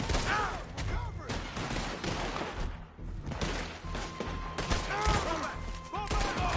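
Volleys of gunfire crack and thud in a Red Dead Redemption shootout, repeated bursts of shots with shouting voices amid the chaotic exchange.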